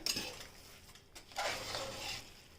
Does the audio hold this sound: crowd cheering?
no